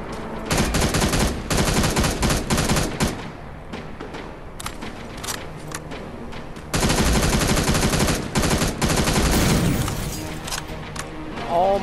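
Loud bursts of automatic gunfire from the Terminator Resistance shooter rattle in long rapid volleys, broken by brief pauses before firing resumes with heavy booms.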